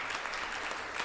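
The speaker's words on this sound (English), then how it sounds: "Big clap to you." A small group gives a brief patch of applause for a new member, soft and steady, with no voices.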